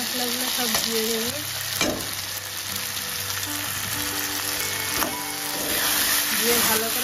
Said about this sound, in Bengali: দিয়ে ভালো করে নাড়িয়ে কষিয়ে নেব।